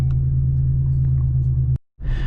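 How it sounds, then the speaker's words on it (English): A 2014 Ford Mustang GT V8 engine idles loud and close with a deep steady rumble, cuts off abruptly into brief silence, then roars back to life. "listening to the V8 engine starting."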